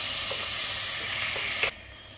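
Onions fry in a spiced masala, giving a steady, hissing sizzle with a couple of stirring scrapes before it suddenly cuts off.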